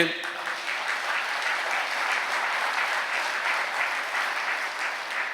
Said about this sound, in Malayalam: ഒന്ന് ഉയർത്തി കൈയടിച്ചേ